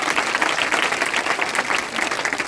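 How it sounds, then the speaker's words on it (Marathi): Audience clapping together at a Christmas church gathering in Mumbai, a loud, close, continuous burst of applause with a dense, even rhythm and no voices over it. "टाळ्या लेकरासाठी टाळ्या वाजवा की सगळ्यांनी"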